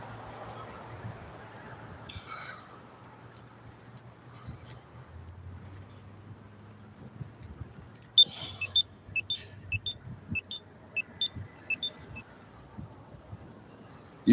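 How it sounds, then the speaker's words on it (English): An electronic device gives a rapid series of short, sharp, high beeps when touched, fairly close and evenly spaced, after a stretch of quiet room noise with a few faint tones and muffled sounds. "It makes a beeping sound when you touch it."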